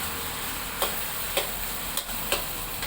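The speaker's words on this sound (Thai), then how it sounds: "มาผัดกระเทียมผัดน้ำมันนิดหน่อย" Steady sizzling hiss of garlic stir-frying in a little oil in a pan, with occasional sharp clicks of a utensil scraping, no voices.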